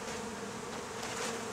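Honeybees being relocated from a hole in a house ceiling drone in a faint, continuous buzzing swarm throughout.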